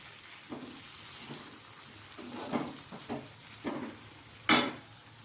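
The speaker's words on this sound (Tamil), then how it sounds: "இப்போது மசாலா போட்டு கிண்டி விட்டு ஒரு 2 நிமிஷம் இருக்கட்டும்" Potatoes being stirred with masala in a frying pan: soft scraping stir strokes every second or so over a low sizzle, ending in one louder sharp scrape or clatter near the end.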